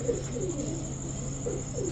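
Pigeons such as Pakistani teddy, racer and giribaj birds at a pigeon seller's give a few soft, low coos, faint against a steady background hum.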